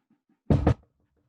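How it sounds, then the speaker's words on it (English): Two quick, heavy knocks on a door as a stage effect in an outdoor Shakespeare performance of Romeo and Juliet, loud and close, following faint soft taps and then fading into quiet. "Hark how they knock."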